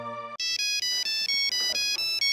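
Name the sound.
phone ringtone ringing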